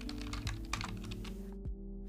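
A computer keyboard clatters steadily as text is typed into Notepad, a quick run of soft overlapping key clicks that stops abruptly near the end, with a faint background hum.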